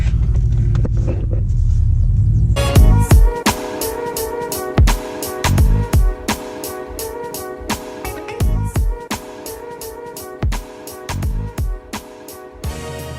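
A car engine is started with the key: quiet cranking gives way to a sudden catch, then a loud, rumbling idle with a regular pulsing knock close by.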